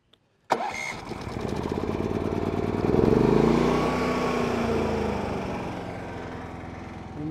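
A small Harbor Freight Predator inverter generator engine cranks and catches after a brief pause, then settles into a steady, buzzing run that stays moderately loud throughout.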